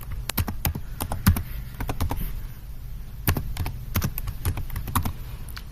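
Rapid clicking keystrokes on a computer keyboard come in quick uneven runs with short pauses, close and crisp over a quiet room background.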